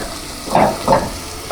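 Onions and celery softening in a pot for clam chowder, a soft steady sizzle with two brief swells of hissing and bubbling, close and alone without talk.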